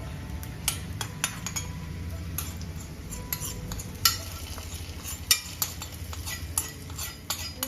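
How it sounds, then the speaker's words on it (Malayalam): Cashews fry in hot fat in a pan, a faint low sizzle broken by irregular sharp clinks of a spoon against the pan. "ഇനി അതിലേക്ക് ഒരു ആറ് അണ്ടിപ്പരിപ്പ് ഇട്ട് കൊടുക്കാം ഇനി ഇതൊന്ന് മൂത്ത് വരട്ടെ"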